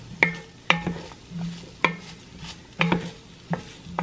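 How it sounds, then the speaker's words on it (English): Potatoes stirred into a pot with softened onion and garlic while making a winter soup, giving a series of sharp spoon knocks against the pot over a low sizzle, repeating at irregular intervals. "after the 3 to 4 minutes with the onion and the garlic, then add in your potatoes"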